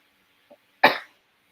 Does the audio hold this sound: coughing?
yes